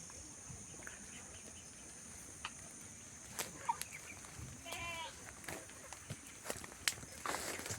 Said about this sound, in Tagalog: Dito yung kanding.